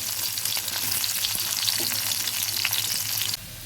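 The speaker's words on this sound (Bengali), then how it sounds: "পেঁয়াজটা ভাজা হয়ে গেছে" Chopped onion frying in mustard oil in a pan, a dense steady sizzle with small crackles and stirring scrapes, close and fairly loud, easing slightly at the very end; no one speaks.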